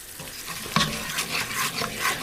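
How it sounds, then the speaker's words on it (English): Flour being stirred into a roux in a pot, a spoon scraping and swishing in repeated strokes over a soft sizzle, one sharper knock early on, close and moderately loud. "I am going to add a little more flour to this pot"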